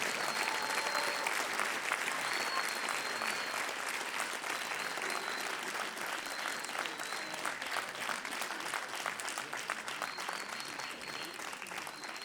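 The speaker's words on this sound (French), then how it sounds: "On peut les applaudir bien fort, s'il vous plaît, encore une fois." Concert audience applause, a sustained, even roar of many clapping hands heard from within the crowd, with a few faint whistles, fading slightly toward the end.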